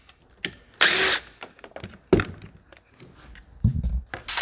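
A power tool drills and whirs in short bursts while the chain guard is taken off a Burromax scooter, with clunks and handling knocks between the runs, close and fairly loud.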